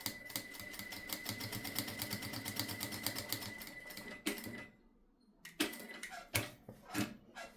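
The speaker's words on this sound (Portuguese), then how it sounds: "vamos fazer uma costura em toda a borda" A sewing machine stitches around the edge of a fabric bookmark in a fast, even mechanical clatter for about four seconds, then stops; a few separate knocks and clicks follow.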